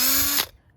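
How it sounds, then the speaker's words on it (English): A power drill bores a 1/8 inch pilot hole at the center of the pivot point hole on a 1959–66 GM Fleetside tailgate, giving a close, steady whine that cuts off abruptly after less than half a second. "drill an 1/8 inch pilot hole"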